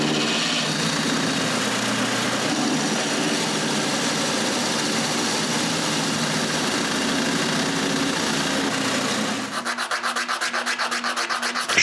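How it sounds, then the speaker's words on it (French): Wood being cut with a steady power tool to chamfer the ends of wooden legs, a continuous loud grinding rasp for about nine seconds, then a shift to a lighter, pulsing tone as the cut finishes, with no talk. "Ensuite, je coupe un chanfrein."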